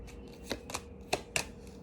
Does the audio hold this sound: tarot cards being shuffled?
yes